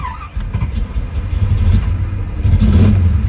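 A fuel-injected 1981 Chevrolet Camaro Z/28 Pro Touring with MSD ignition cranks and catches, its engine settling into a loud, deep idle with a rumble that swells again near the end, heard up close with no talk.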